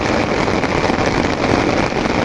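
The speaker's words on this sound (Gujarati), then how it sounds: "અચાનક વરસાદે બોલાવી દીધા ભૂકા." A sudden heavy downpour drums down in a steady, loud, dense hiss of rain with no break and no voices.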